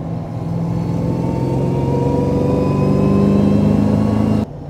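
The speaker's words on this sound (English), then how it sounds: "what's going to sell this car is the pure induction noise" Engine induction noise from a modified, engine-swapped Bowler Defender, a loud, close rising drone with climbing harmonic tones that builds steadily before dropping off abruptly near the end, with no talking.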